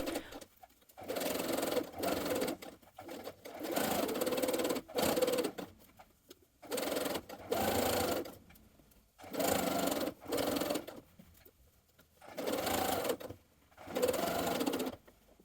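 A domestic sewing machine stitches around the perimeter of a garment edge, running in short bursts of a few seconds separated by pauses, with a close, even mechanical whir and no talk.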